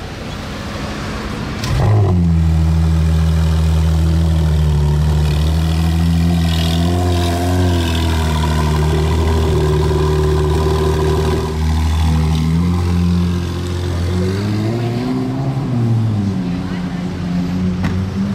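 A sports car fitted with a Novitec exhaust idles loudly and close, then revs with rising and falling engine tones in the streets of Monaco.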